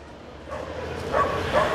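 A newly arrived dog meeting the resident guard dogs at home, with a few short yips and whimpering barks close by over a low background hum.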